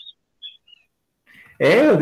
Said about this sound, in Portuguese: Ô, barulhinho bom de passarinho, hein?